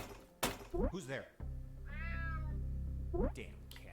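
Cat meowing in the game Unmetal, a couple of short meows followed by a longer drawn-out wavering yowl, close and clear over a low hum, with game voice lines interspersed.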